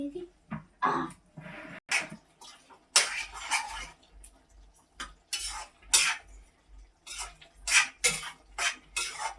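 A small child stirs potato curry in a pot, the spoon knocking and scraping against the metal in a string of short clinks, heard close up between bursts of a child's chatter.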